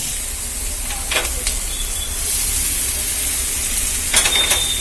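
Green field beans tumble into onions sautéing in a pan, giving a steady loud sizzle and hiss with bursts of stirring and clattering, and no talk.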